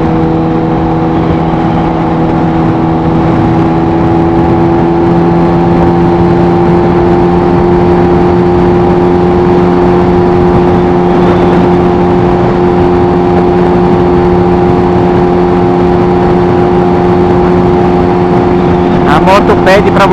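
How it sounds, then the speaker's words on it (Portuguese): Motorcycle engine running loudly and steadily up close, a sustained droning hum with strong tonal layers that barely changes, a brief rattling burst near the end. "Que a minha moto faz barulho, velho."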